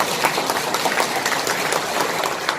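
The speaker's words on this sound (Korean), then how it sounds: "박수 부탁드리겠습니다" An audience at a public economic debate in Gumi claps steadily and densely for a few seconds, a crowded, continuous patter of many hands.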